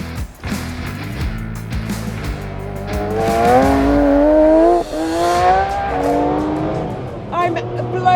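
A Tuthill Porsche 911K rips through the gears on a race track, the engine note climbing in rising sweeps with brief dips at each shift, loud and close, with a voice heard over it.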